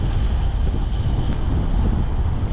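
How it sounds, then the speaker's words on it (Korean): Steady, loud autumn wind roars across the microphone while cycling on a ride from Gwanghwamun to Namyangju, a continuous low rumble with no pauses and no talk. "바람이 진짜 가을 바람 맞네"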